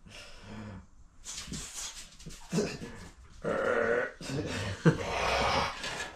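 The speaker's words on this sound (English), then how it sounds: "crazy dog." Dog in a workshop making snorting, grunting and growly breathing noises up close, in irregular bursts with short gaps between them.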